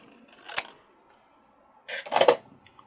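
Scissors trimming a stamped card, two quick crisp snips about a second and a half apart, close and fairly quiet in an otherwise still room with no talking.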